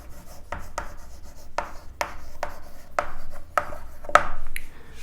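Chalk or marker strokes on a classroom board during a biology lecture, a series of short scratchy rubbing strokes in uneven rhythm, close and fairly quiet, with no talking.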